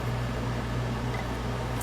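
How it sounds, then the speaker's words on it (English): Kitchen vent fan running steadily, a constant close whooshing hum with a low motor drone underneath, unchanging throughout and with no one speaking. "Turn the vent fan on."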